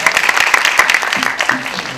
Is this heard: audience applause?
yes